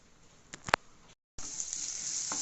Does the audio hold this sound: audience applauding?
no